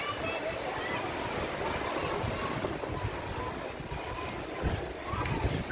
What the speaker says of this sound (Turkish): inanılmaz da dalgası var